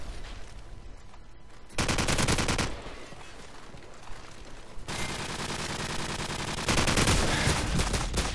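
Bursts of automatic gunfire in a team deathmatch shooter game, with two loud sustained volleys and rapid crackling shots between them, close and continuous throughout.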